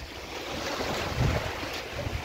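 Sea waves wash onto a beach at the foot of a tall mountain, a steady close roar of surf mixed with wind buffeting the microphone throughout.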